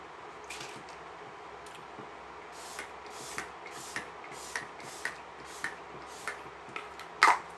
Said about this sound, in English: Now I'm going to go in with my Touch and Behold setting spray. I'm going to spray down my face